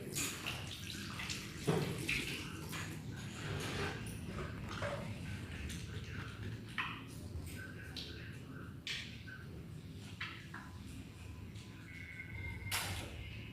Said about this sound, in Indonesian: Mencuci tangan 6 langkah dengan air mengalir.